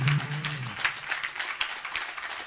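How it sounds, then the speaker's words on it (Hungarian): Applause for a performer on stage at the Akusztik music show, a steady wash of crowd clapping that fills the whole moment at moderate volume. "egy nagy tapsot a színpadon"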